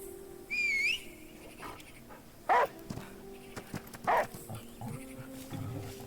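In the video game The Last Day of June, a dog barks twice in short, sharp bursts a couple of seconds apart, over steady electronic game tones and a brief whistling sweep.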